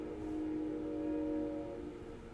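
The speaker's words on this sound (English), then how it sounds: "you heard the train?" A train passes outside, heard as a steady low rumble with a sustained horn-like tone that swells and fades over a couple of seconds, somewhat distant and faint, with no one talking.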